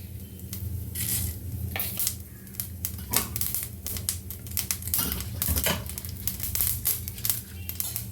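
Mustard seeds crackling and popping in hot sesame oil in a pan, a dense, steady stream of sharp spattering pops that runs continuously up close.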